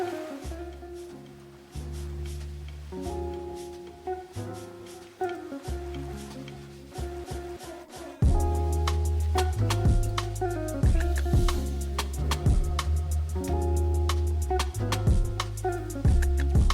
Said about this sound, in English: play a track. You will hear it gently in the background.